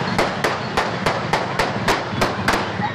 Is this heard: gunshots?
yes